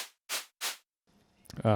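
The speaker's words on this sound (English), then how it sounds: "took the guess that that's white noise, you would be correct" Three short bursts of synthesized white noise hiss evenly at close range, followed by a faint noisy tail and a voice starting to speak.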